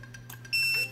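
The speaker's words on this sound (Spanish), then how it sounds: "cuando escuchemos este bip largo, significa que nuestra huella quedó ingresada como administrador" Metal biometric fingerprint access control unit giving a long confirmation beep, a sustained high tone following a few short clicks and softer beeps, close and clear.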